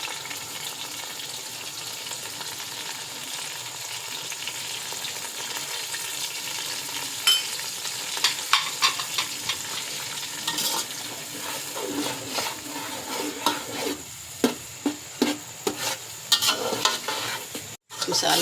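Whole spices, turmeric, chilli and pickle frying in oil for a mixed vegetable biryani, a steady sizzle with a spoon stirring and scraping the pot, clinks growing more frequent toward the end; no talking.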